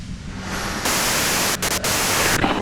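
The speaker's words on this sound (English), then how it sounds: "If you've got something really important to say, you can do it through the white noise." Radio white-noise static in the video game Disco Elysium, a loud continuous broadband hiss that swells partway through and drops out in brief gaps, with no voices.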